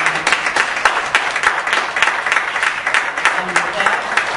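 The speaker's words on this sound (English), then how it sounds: "So I just want to give them another round of applause." An audience at an engineering society's general body meeting gives the panelists a sustained round of applause, dense clapping from many hands filling the room, loud and continuous throughout.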